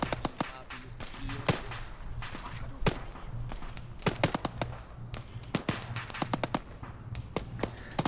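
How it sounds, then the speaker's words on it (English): Mammoth tank from the Command and Conquer mod for Arma 3 firing in combat: loud, sharp cracks and heavy thuds at irregular intervals over a steady low rumble. "this Mammoth tank, absolutely devastating"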